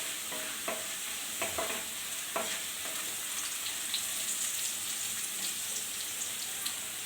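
Tomato chutney sizzling in a pan as turmeric powder is stirred in, a steady close fry hiss with scraping spoon strokes throughout.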